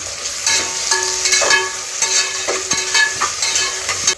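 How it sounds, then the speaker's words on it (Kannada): Onions and tomatoes frying in a pan, a steady close sizzle with the scrape and clatter of stirring repeating every half second or so, no talk. "ಇವಾಗ ಇದು ಚೆನ್ನಾಗಿ ಫ್ರೈ ಮಾಡ್ಕೊತೀನಿ"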